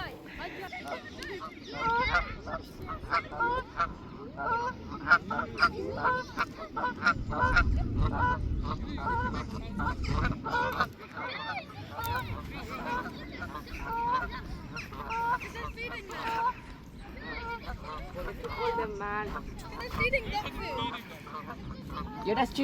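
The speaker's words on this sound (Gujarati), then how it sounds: "બતક." Geese and ducks honking in chorus at Richmond Park, a dense run of repeated calls from several birds close by, with people talking over them and low wind rumble underneath.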